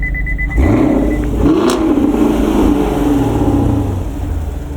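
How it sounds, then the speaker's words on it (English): A 2023 Camaro SS 1LE engine fires up and revs hard, a loud throaty roar that rises and holds, then settles into a rumbling idle. "Give me a rev, Christopher."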